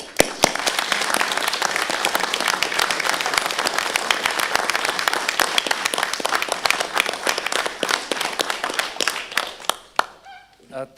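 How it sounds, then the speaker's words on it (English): An audience at a university board of supervisors meeting on a campus bursts into sustained clapping, a dense, even patter that holds for several seconds before tapering off quickly at the end. "So if everybody would please join me in a round of applause."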